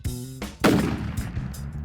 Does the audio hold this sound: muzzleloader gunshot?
yes